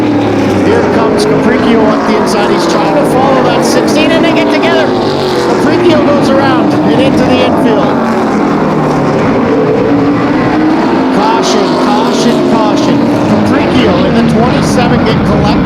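Super late model stock cars race at Flamboro Speedway in Ontario during an outlaw super late model event, engines roaring loud and continuous as cars pass, with a race announcer talking over the noise throughout.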